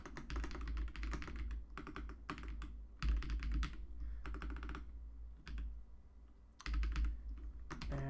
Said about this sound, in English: forgive my typing, I'm standing